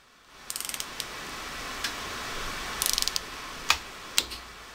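Torque wrench being turned during component assembly, with quick bursts of ratcheting clicks and a few sharp, louder clicks toward the end over a faint background hiss, close and with no talking.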